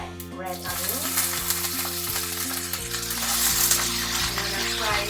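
Red onion with curry leaves frying in a pan, a loud, dense close-up sizzle that stays constant and grows slightly fuller partway, with faint clinks and a musical tone underneath and no voices.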